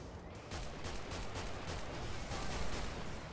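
Sniper rifle shots in the multiplayer shooter Renegade X, sounding as a string of muffled, fairly quiet gunshots over a dense wash of battlefield noise, with distant firing from other weapons.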